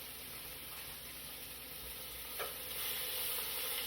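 Beef stew meat browns in a pan, a constant quiet sizzle and hiss with a single clack of a utensil partway through, growing slightly louder toward the end, with no one talking.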